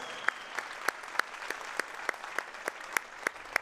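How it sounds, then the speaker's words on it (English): Sparse, quiet clapping at a women's basketball finals ceremony, individual claps spaced at an even rhythm over a soft background hum. "Big round of applause."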